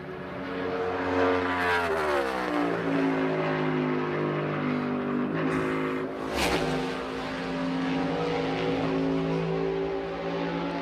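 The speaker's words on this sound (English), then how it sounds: "Heard the downshift." A race car engine roars steadily during practice or qualifying for the 2022 Goodyear 400, its pitch dropping in stepped downshifts then climbing again, loud and continuous with no talking.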